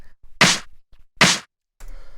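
Two punchy drum hits pass through a damped, old-school analog lo-fi drum bus in a ghetto electro beat, each sounding thick and muffled, followed by a quieter tonal tail.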